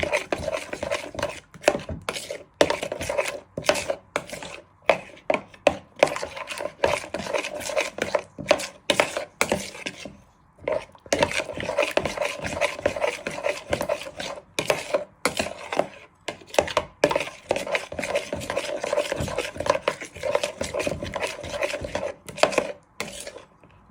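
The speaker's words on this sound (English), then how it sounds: "So you're just giving it a good stir in." Spoon stirring a honey, garlic and soy sauce marinade in a bowl, producing steady rhythmic scraping and clinking strokes with one short pause, close and fairly loud, no voices.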